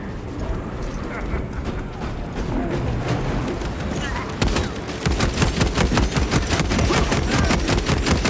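Heavy gunfire from a Warhammer 40000 Space Marine 2 battle, dense continuous shooting that turns into a rapid, loud rhythmic burst of automatic fire in the second half, with voices speaking beneath the din.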